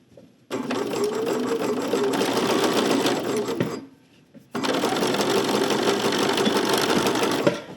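A sewing machine fitted with a larger needle runs in two sustained bursts of rapid, even stitching, close and loud, separated by a short pause.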